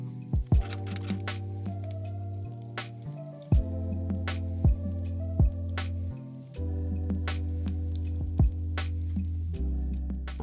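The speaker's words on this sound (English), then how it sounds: "Now sew the basting stitch for gathering, change the stitch length to the biggest one on your sewing machine" A sewing machine runs a long basting stitch through skirt fabric, giving a steady motor hum that shifts in pitch between runs, with small clicks and taps scattered throughout.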